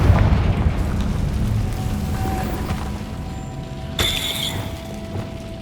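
A Confringo fire spell in Hogwarts Legacy, heard as a single sharp explosive burst partway through, rising over a dense, rumbling game soundscape.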